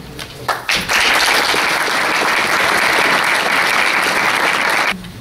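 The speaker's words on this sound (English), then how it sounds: "And if I could ask again for a round of applause for Bobby Redington." A large audience applauds at a police retirement walkout ceremony for Lakewood Township: loud, dense, sustained clapping begins after a few scattered claps, holds steady for several seconds, then cuts off.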